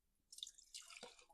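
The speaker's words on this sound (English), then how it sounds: "I'll just pour that little bit of fuel into this glass jar" Small splashes of dirty used fuel from a Stihl MS 271 Farm Boss chainsaw poured into a glass jar, a few faint close trickles and drips ending in a sharper clink.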